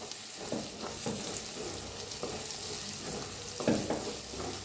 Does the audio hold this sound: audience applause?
no